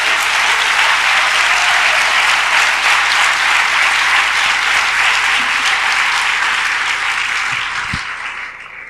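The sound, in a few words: congregation applause in church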